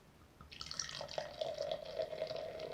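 Home-brewed brown IPA beer pours into a glass after a quiet start, a steady gurgling liquid stream with a rising tone and small splashes that continue to the end.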